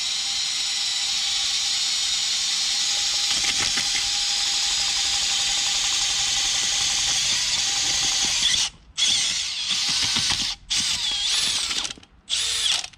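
A power auger with a 3-inch bit digs into hard compacted dirt at low speed, a steady whining motor drone that later cuts out and restarts in several short bursts.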